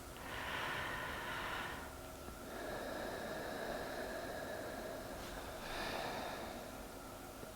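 Slow, deep breaths drawn in and let out during a yoga-style cooldown, a few long airy inhales and exhales, close and soft, with no talking.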